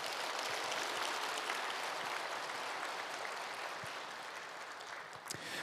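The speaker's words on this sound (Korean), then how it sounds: "우리 인사하실 때 크게 감사의 박수 올려드리도록 하겠습니다." A church congregation at a Wednesday morning worship service claps to welcome new staff, giving dense, sustained applause that sounds somewhat distant and fills the room, easing slightly toward the end.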